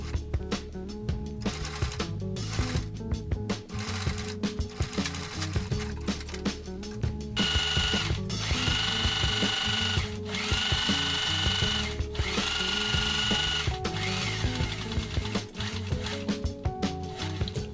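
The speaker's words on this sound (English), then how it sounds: "you get a scrap piece of fabric, cut off a piece of the material you're gonna use, and just run a couple stitches on it" Sewing machine running test stitches on a scrap of fabric, a rapid mechanical clatter in stop-start bursts with a longer continuous run in the middle, close and clear with no talking.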